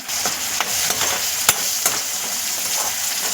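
Seasoning is stir-fried in a pan for leftover chapati chivda, with a loud continuous sizzle broken by repeated scraping stirs and a few sharp spatula knocks, close up and without speech.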